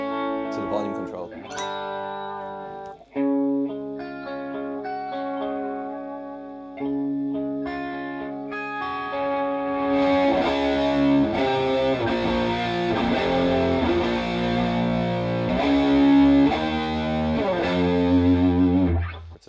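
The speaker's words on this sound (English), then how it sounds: "just chorus and a dry Vox at the same time" Electric guitar chords and picked notes through a Tonex for iOS amp model blending chorus with a dry Vox tone, shimmering, played up close with a rich, slightly distorted tone that swells louder partway through.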